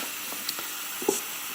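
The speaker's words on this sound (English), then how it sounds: "Get that bacon in there and get it sizzling." A steady, soft sizzle of bacon frying in a pan hisses throughout, with a couple of faint clicks and taps over it.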